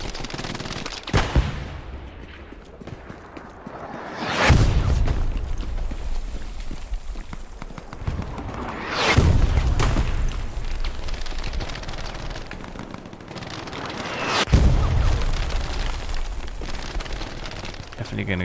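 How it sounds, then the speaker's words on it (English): Mortar shells landing in the Hell Let Loose war game, three heavy booming blasts spaced several seconds apart over constant rattling gunfire and battlefield noise, each impact loud and close with a rumbling tail. "We're getting mortared."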